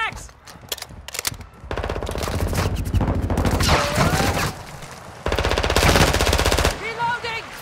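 Sustained automatic machine gun fire in a Call of Duty Domination match, long rapid bursts broken by short pauses, loud and close, with shouted voices partly under the gunfire.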